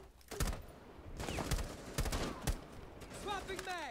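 Video-game gunfire from an AK-12 rifle: several sharp bursts and single shots scattered across a few seconds, close and fairly loud, mixed with other game sound effects.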